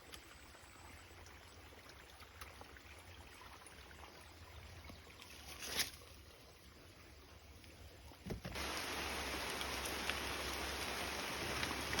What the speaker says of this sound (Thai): ฝนตกแล้วนะครับนะ ฝนตกเลยเนาะเห็นบ่ว่า